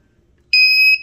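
Temperature check scanner at a building entrance giving a single loud, clear electronic beep about half a second long, held at a steady pitch after a quiet start.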